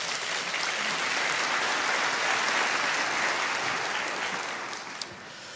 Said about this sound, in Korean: 감사의 박수로 모시겠습니다.